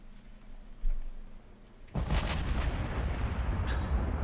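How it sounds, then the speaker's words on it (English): 18-inch battleship guns fire in the naval game Ultimate Admiral: Dreadnoughts, a low rumbling backdrop and an early thump giving way to a heavy sustained booming barrage that rolls on to the end. "What a beautiful sound, those 18-inchers, aren't they?"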